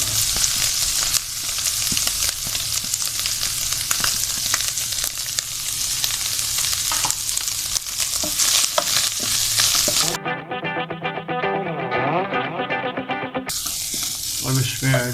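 Carrots stir-frying in a pan for restaurant-style chicken chow mein, a steady loud sizzle with stirring scrapes, broken near the end by a few seconds of tonal music before the sizzle returns.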